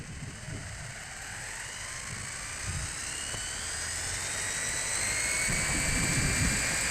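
A WLtoys 104001 brushless RC car runs at full throttle on a 3S battery, a high motor whine that keeps gaining pitch and loudness as it speeds up, with steady rushing noise beneath and no talk.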